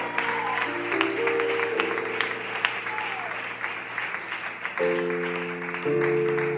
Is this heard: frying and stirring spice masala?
no